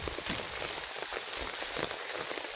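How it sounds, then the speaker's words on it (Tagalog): Heavy rain drums steadily on plastic sheeting in a farm field, a dense continuous patter close by with scattered sharper drop hits. "Lakas ba naman kasi ng ulan."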